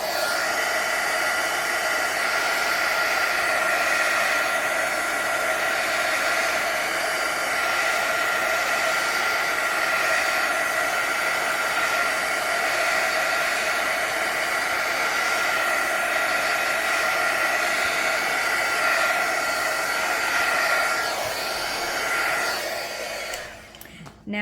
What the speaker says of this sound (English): let me heat gun it